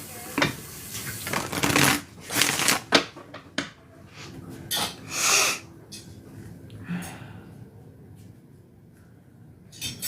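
A deck of playing cards is shuffled close up in several quick riffling bursts, separated by short pauses and soft breathing or sniffing noises.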